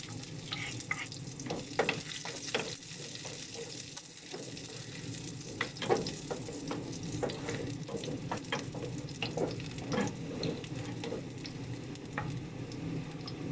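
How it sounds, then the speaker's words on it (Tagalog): Garlic sautés in a pan for adobo, giving a constant low sizzle with scattered stirring clicks and scrapes throughout. "Gisa na tayo ng ating bawang"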